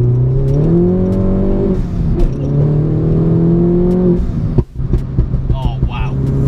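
A 300 BHP R56 Mini John Cooper Works engine revs hard, its pitch climbing and holding in repeated pulls before easing off, loud and close, with a brief thump and light rattles toward the end.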